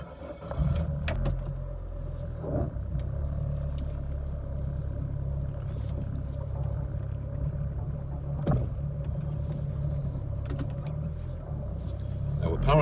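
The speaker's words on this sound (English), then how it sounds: "reason we're taking the Corsa for a drive today is because the owner was using it shortly before Christmas and it overheated" A Corsa car that had previously overheated is driven along, its engine and road noise forming a steady low rumble throughout, with a few brief clunks and knocks.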